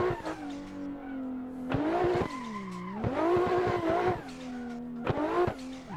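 A car drifts in the racing game Assetto Corsa on a direct-drive steering wheel. The engine drones loudly and rises and falls through revs, and tires squeal in repeated drawn-out skids between throttle blips.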